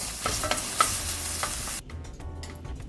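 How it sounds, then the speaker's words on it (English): Chopped onions sauteing in olive oil in a pan, a steady close sizzle with stirring clatter that cuts off abruptly near the end, leaving faint kitchen noise. "We saute the onions for a few minutes, just until it gets a little bit darker in color."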